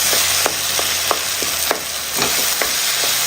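Mashed potatoes frying in a pan get stirred, a steady loud sizzle with regular scraping strokes of the spoon about every half second, close up.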